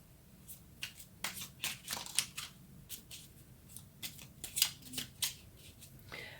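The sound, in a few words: shuffling tarot cards to draw another card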